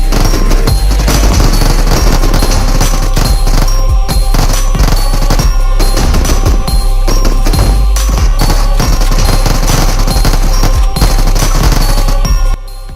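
Sustained machine gun fire rattles on loud and nearly continuous for about twelve seconds, rapid bursts crowding together over a heavy low rumble before cutting off abruptly at the end.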